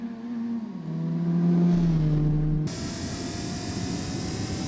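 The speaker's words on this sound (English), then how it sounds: "So I jump in A-Spec and unleash the nitrous for the first time." A Honda City Turbo II accelerates hard on nitrous in Gran Turismo 4. The engine climbs in pitch to a loud, sustained roar, then cuts abruptly into a wide, hissing rush that carries on steadily, with no voices.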